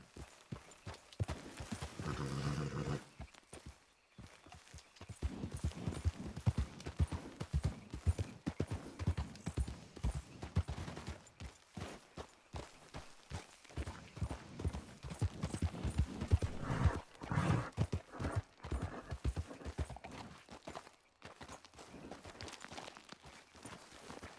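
A horse's hooves clip-clop in a steady rhythm while it is ridden through Red Dead Redemption 2, close and fairly loud, with brief pauses and a few quieter stretches.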